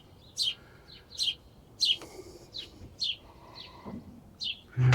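Small songbirds at a bird feeder beside Hinckley Lake give a string of about eight bright, high chirps in an uneven rhythm. The calls are clear and fairly close over a quiet, calm background.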